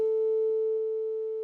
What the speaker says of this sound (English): A440, which sounds like this